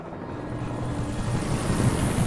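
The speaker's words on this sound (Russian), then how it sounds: "Вертолет, заберите меня, пожалуйста, я сдаюсь." A helicopter in the video game Alan Wake drones with a steady low rotor thrum that grows slightly louder as it nears, heard alone without talk.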